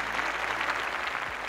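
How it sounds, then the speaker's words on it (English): Brief wash of audience applause at the Femina Miss India 2016 grand finale pageant, honoring sponsors and experts; a dense, even roar of clapping with no distinct individual claps. "let's have a huge round of applause for all our sponsors and experts"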